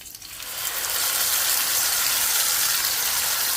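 Mustard seeds, dal and curry leaves sizzle in plenty of hot oil while a chutney is being tempered, a loud, steady hiss that swells in the first second and then holds close and constant.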